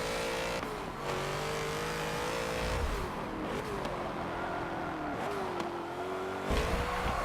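A modified BMW M5 in the racing game Forza 7, its engine droning loud and rising and falling through gear changes, with tyres spinning under power and no talking.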